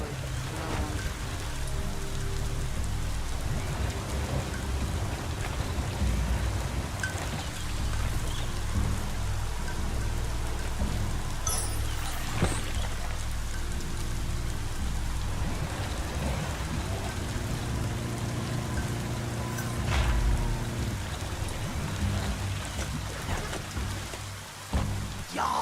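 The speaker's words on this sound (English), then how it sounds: "Hope this rain is warm." Steady rain pours in the Biomutant game world, a dense continuous hiss of drops on surfaces with low rumbling underneath, loud and unbroken throughout with no voices.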